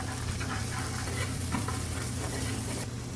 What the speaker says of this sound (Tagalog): Lutuin lang natin ng ano yung bawang at sibuyas nang lumabas yung kanyang amoy